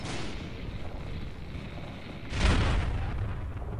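Rockets fired from an airship in the game Air Buccaneers: a steady rumbling roar, then a louder sudden blast that swells and lingers as a booming explosion.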